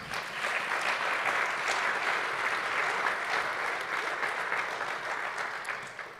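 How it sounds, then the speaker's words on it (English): An audience at a Brooklyn music-and-reading night bursts into dense, even applause that holds strong for several seconds, then begins to taper near the end. "Clap for that."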